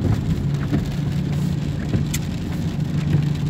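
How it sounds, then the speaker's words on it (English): Heavy rain drums steadily on a car while driving through Cincinnati streets, a dense continuous hiss with low road rumble and no voices. "it's raining and it's so hard to see the streets."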